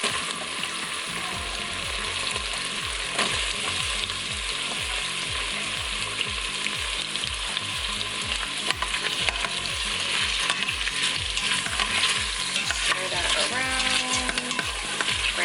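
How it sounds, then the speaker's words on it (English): Green pepper, red pepper and onions sautéing in an Instant Pot for carne guisada, with a steady close sizzle and regular scraping stirs throughout, with no talking. "So then we're going to add in the green pepper, red pepper, and onions. So that could go ahead and saute up for a little bit."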